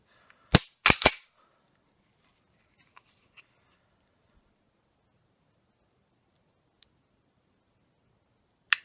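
A Kahr CM45 pistol trigger being pulled and reset: three sharp metallic snaps close together near the start, then faint ticks and one more sharp click at the end, in an otherwise quiet room.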